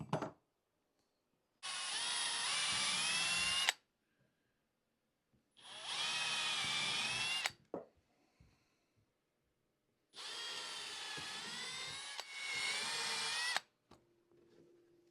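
A power drill with a 9/64 bit pre-drills screw holes, running in three separate bursts of about two seconds each with short quiet gaps between them, close to the microphone and free of any speech.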